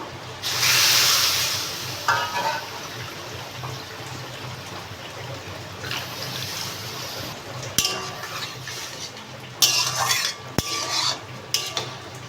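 Water poured into roasted semolina in a pan and stirred, with an opening splash and hiss followed by steady spoon scraping and occasional clinks against the metal, close and alone.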